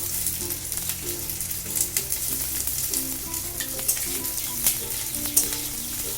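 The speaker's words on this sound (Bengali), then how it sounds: "রসুনটা একটু ভেজে নেব, হালকা করে একটু নেড়ে নিলাম। এবারে এতে দেব পেঁয়াজ কুচি।" Chopped garlic and onion frying in hot oil in a pan, a steady close sizzle with occasional stirring scrapes and crackles throughout; no talking.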